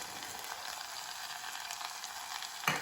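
Jaggery, garam masala and cumin being stirred into pigeon pea (toor) dal, a steady close-up sizzle with soft scraping throughout, ending in a brief louder clatter.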